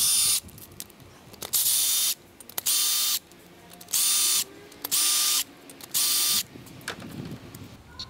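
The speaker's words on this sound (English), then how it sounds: "we'll go through and we'll pull all the cam plate bolts" Ratchet wrench working cam plate bolts loose on a 2006–2017 Harley-Davidson Dyna during a cam chest kit install, heard as five or six loud bursts of rapid clicking, each lasting about half a second, separated by short quiet gaps.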